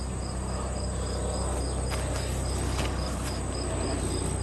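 Insects chirp in a garden with an even, pulsing trill that repeats about twice per second, moderately loud over a low background hum, with faint clicks in the middle.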